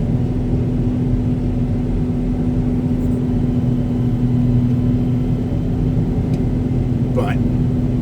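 A loader vehicle's engine drones steadily and loudly from close by as it drives, a constant low hum with no pauses throughout.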